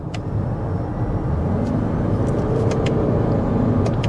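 A Lexus NX 2.5-litre four-cylinder engine running in combustion mode gives a steady, loud low rumble with road noise from inside the moving SUV, alone and continuous throughout.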